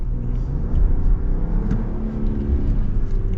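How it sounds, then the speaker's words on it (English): The engine of a 2025 Ram 1500 Limited pickup truck, a high-output unit, pulls hard under acceleration, heard from inside the cab as a steady, loud low rumble that builds gradually, with no one talking. "It's like it's really torquing the low end, and then it builds, and then it just rips through red line."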